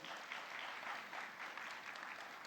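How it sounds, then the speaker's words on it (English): Conference audience applauds, a faint, even patter of many hands clapping steadily throughout, heard from a distance. "Give him a round of applause."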